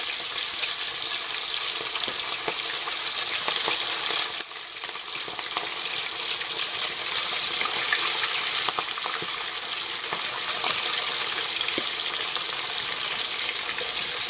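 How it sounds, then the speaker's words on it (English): Steady, loud sizzling and crackling of fish frying in hot oil, continuous throughout with small pops and spatters, close by. "I'm going to fry the fish now"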